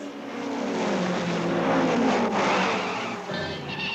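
Cartoon race car engines roar through an auto race, a loud sustained mechanical drone with rising and shifting pitch, continuous and close.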